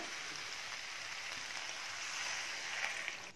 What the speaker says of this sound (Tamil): இப்போ குழம்புக்கு தேவையான அளவுக்கு தண்ணி ஊற்றிக்கிறேன்.